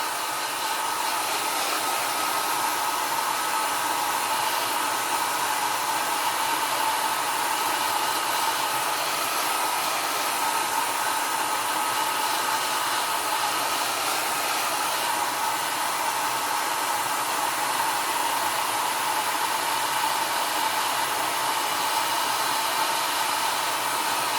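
Hair dryer blowing on wet watercolor paint to dry a gray wash, a loud, steady, continuous airy whir that holds unbroken from start to finish with no speech.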